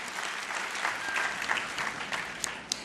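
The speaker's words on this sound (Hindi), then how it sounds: "एक बार जोरदार तालियों द्वारा हम ये दोनों परिवार को साधुवाद दें" A gathered congregation at a religious discourse in Tirupati gives sustained applause in honour of two families, a soft, distant wash of steady clapping with a few sharper claps near the end.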